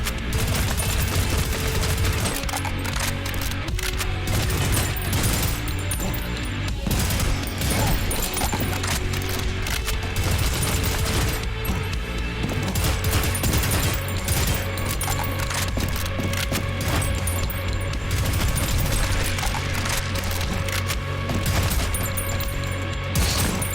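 Constant loud gunfire from shooting in the first-person shooter Prodeus, dense overlapping rapid shots and blasts running without a break.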